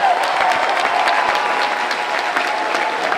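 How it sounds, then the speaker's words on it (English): A hall audience breaks into sustained, dense applause for Bob Brown at a Greens political gathering, steady and loud throughout. "I really hope that we can all offer up a wonderful applause"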